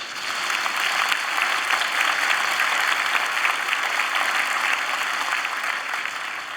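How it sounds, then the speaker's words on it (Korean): Steady applause from a church congregation at a dedication and ordination service, dense and even clapping filling the hall for several seconds without a break. "우리 권사님들 위해서 큰 격려 박수 한번 해주세요."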